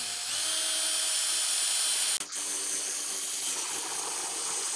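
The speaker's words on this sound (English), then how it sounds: "now I'm going to drill the hole, the second hole" A power drill whines loudly and continuously, with a brief dip midway before the high-pitched drilling resumes.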